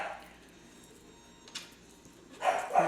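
Dogs barking indoors: after a quiet stretch comes one short bark, then a louder cluster of sharp barks near the end, at moderate distance.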